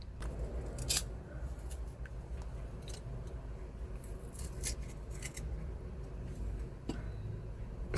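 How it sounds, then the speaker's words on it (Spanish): Cutting pieces of a circuit board to free electronic components, with quiet, scattered snips and crunchy clicks of the cutting tool over a steady low hum. "De esta forma, cortando estos pedazos, los componentes se van a ir liberando poco a poco."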